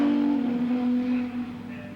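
Group A BMW touring cars racing at Winton in the opening round of the 1985 Australian Touring Car Championship, a sustained engine drone holding a steady pitch, with faint crowd or commentary noise underneath.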